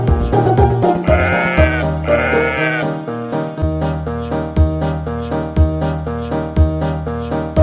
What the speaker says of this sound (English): It's sheep.